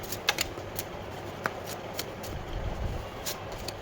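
Tarot cards shuffled and drawn during a love reading, giving a soft, steady papery rustle with a few sharper snaps of cards being pulled, fairly quiet and close with no talking.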